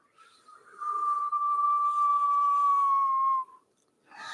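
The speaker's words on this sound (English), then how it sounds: "The inhale is through a rounded mouth, making a whistling sound, and the exhale is through the nose." Whistling inhale drawn through a rounded mouth during Kundalini yoga breathing: a single steady, fairly loud whistle-like breath tone held for about three seconds, fading to quiet before a brief soft rustle.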